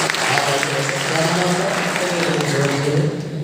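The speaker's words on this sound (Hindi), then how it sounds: "एक बार जोरदार ताली आपके लिए" Audience applause at a Hindi-language motivational seminar, a dense, steady wash of many hands clapping for the full length, loud and close, with a voice faintly present beneath.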